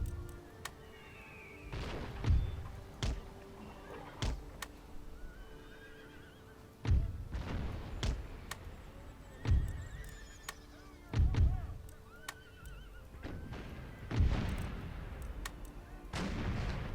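Horses neighing amid cannon and artillery fire in an American Civil War video game, loud booming blasts recurring every couple of seconds with whinnies between them, and brief voices.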